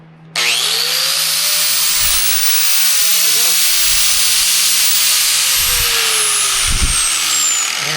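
A sanding disc on a steel backer plate grinds steel with a loud, steady broadband hiss and whine running almost the whole time, with a few brief low thumps underneath as pressure shifts.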